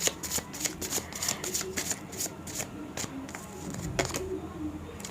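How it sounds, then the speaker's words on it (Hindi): Tarot cards being shuffled by hand in a quiet room, a steady run of rapid riffling and flicking bursts lasting throughout, close and moderately loud with no talk over it. "अब एक बार और शफल कर लेते हैं।"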